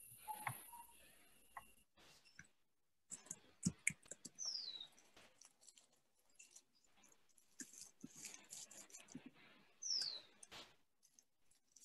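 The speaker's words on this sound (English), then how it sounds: "I love those birds." Faint bird chirps come through a quiet background, with a couple of thin, sweeping calls and scattered soft ticks spread across the stretch.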